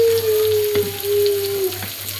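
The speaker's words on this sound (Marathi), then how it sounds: "कांदा मस्त असा भाजून घ्यायचा" Onions frying in oil in a pan, with a steady close sizzle and crackle running through the whole stretch, plus a faint tone and a few soft stirring knocks.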